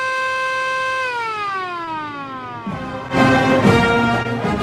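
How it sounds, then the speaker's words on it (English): A siren sound effect holds a steady electronic wail, then winds down in pitch. A louder, noisy burst follows near the end, with no one speaking. "Let me see the siren."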